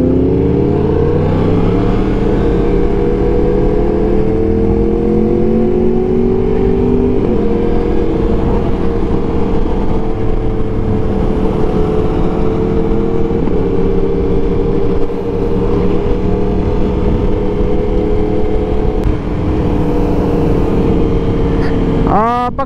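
A Yamaha YZF R1 motorcycle fitted with an Akrapovic exhaust roars continuously in the Adelaide Hills, rising and falling through revs, with a sharp rev burst at the end.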